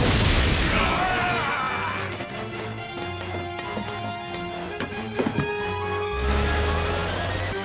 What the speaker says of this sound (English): Smoke grenade!